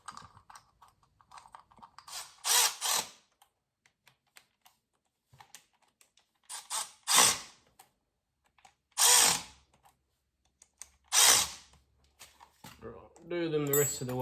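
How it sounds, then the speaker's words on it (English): A powered driver runs screws into the cover of a Suzuki RMX250 dirt bike in several short whirring bursts separated by pauses and small clicks, with a voice speaking near the end. "I'll start threading some of these screws in so that they don't fall out on me."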